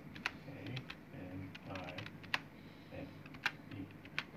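Someone typing a short word on a computer keyboard while playing a horror adventure game, a quick scatter of sharp key clicks up close over a low background, with some voices and game sounds mixed in.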